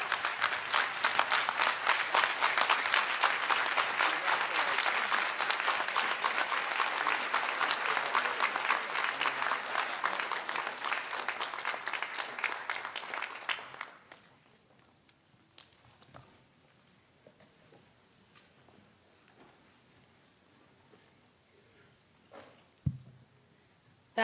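At the investiture of Coppin State University president Dr. Anthony L. Jenkins, an audience claps loudly and densely for about fourteen seconds, then the applause drops away to a quiet hall with scattered faint knocks and shuffles.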